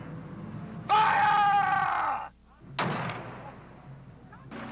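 A ship's cannon fires in a loud burst followed by a roaring, screaming rush that cuts off, then a second sharp blast trailing into fading rumble, part of a staged pirate scene on a windjammer cruise.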